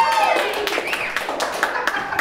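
A comedy festival audience claps in a sparse, scattered way, with separate hand claps overlapping for a couple of seconds rather than a full roar of applause.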